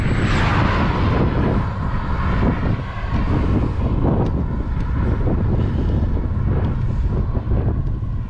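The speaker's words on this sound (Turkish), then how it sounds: "Bir de acayip rüzgar var." Strong, cold wind buffeting the microphone of someone cycling, a loud continuous low roar with gusty swells and no talking.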